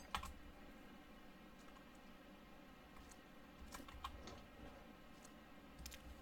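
Lockpicking a locked locker in the SCUM survival video game: quiet, irregular small clicks and ticks of the pick working the lock, sparse and faint over a low steady background hum, with no talk.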